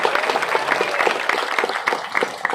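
Hearty audience applause at a village gathering in India, dense rapid clapping from many hands that stays loud and steady throughout, with a voice briefly audible underneath.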